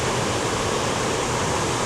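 Cumberland Falls, a large waterfall in Kentucky, swollen and murky after rain, roars in a steady, dense broadband wash that holds constant and loud throughout, with no voices.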